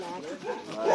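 Dogs at Suan Sam Anong garden on Koh Samui, Thailand, give a brief bark amid a person speaking, with one louder burst at the end.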